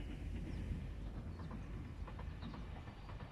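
A train rolls past close by during a jog beneath cherry blossoms in Tsushima, Aichi, Japan, making a dense, steady rumble with faint rhythmic clatter throughout and no talking.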